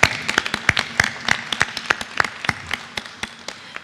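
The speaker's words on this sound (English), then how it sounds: "that alone deserves a round of applause" A small scattering of hands clapping at a school board meeting, a few distinct claps in an uneven rhythm that thins out toward the end, fairly close with no voices.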